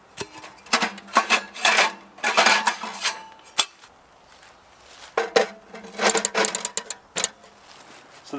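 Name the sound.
setting up a folding camping oven stove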